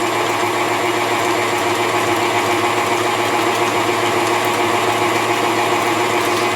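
An electric mixer whips egg whites for macarons at a steady, continuous whir, loud and unbroken, with a constant motor drone and no talk.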